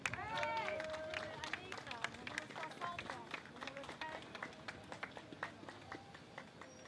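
An audience at an outdoor political rally applauds the sound technician with a dense spread of clapping and crowd noise. Voices murmur through it and one voice speaks at the start.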